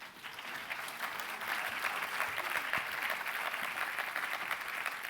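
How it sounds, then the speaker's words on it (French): Steady applause from an audience at a doctoral degree ceremony, sustained clapping at moderate level filling the room for several seconds with no voices over it. "Et on peut l'applaudir également."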